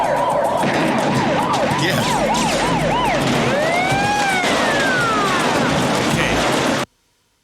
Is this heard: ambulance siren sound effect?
yes